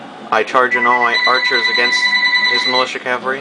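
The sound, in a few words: mobile phone ringing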